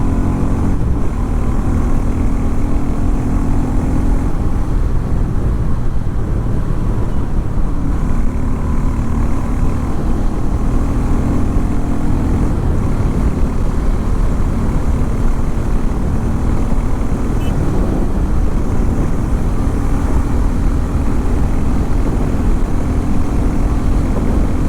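Harley Davidson X440 motorcycle engine droning steadily while pulling along a highway, a continuous loud rumble with wind roar and gently rising pitch, no voices.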